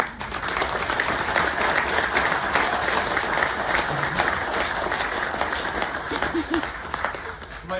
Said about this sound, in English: now it's my turn to applaud you